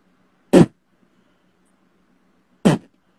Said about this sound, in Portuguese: Esse é o som do tom 1